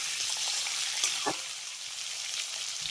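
Potato and pumpkin frying in a pan, stirred lightly, with a steady close sizzle and one or two soft scrapes partway through.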